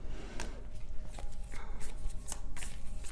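Tarot cards shuffled by hand in a series of quick riffling, slapping bursts, close and moderately loud, with no talking.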